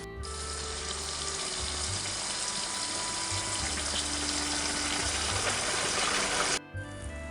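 Tomatoes and onions bubble and sizzle in a pan for a paneer curry, a steady, loud hissing rush filling the whole stretch before cutting off near the end, with no talk over it.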